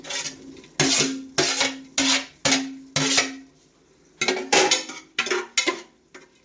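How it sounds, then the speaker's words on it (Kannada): Beetroot pieces dropped and stirred into a metal cooking pot, giving a run of loud, close scraping and clattering strokes with short pauses between them, with no talk. "ಇವಾಗ ಬೀಟ್ರೂಟ್ ಹಾಕ್ತಾ ಇದ್ದೀನಿ."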